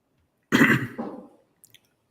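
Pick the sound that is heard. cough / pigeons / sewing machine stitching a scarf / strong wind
cough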